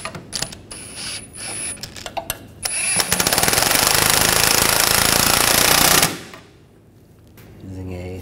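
A nut being tightened on the rear shock mount of a 2009-2013 BMW 328i: a few sharp clicks and taps, then a loud, steady mechanical rattling whir lasting about three seconds that stops abruptly, followed by quieter handling noises.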